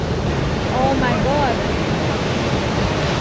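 Sea waves breaking on a Gold Coast beach in Australia, a loud continuous wash of surf with wind buffeting the microphone, and faint voices briefly audible under the roar.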